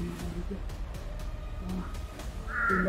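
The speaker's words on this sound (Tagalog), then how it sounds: "Uwak sa unahan" A crow caws near the end, a single harsh call over a steady engine rumble and a voice.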